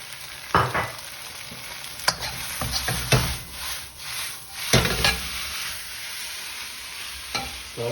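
King prawns sizzle and fry in a wok while a utensil scrapes and stirs them in irregular strokes, close up with no voices.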